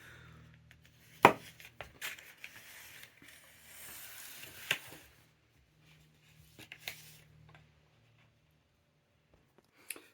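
A long Shemanese knife slices through cantaloupe in a few quiet crisp cuts and scrapes, spaced apart and close, separated by stretches of near silence.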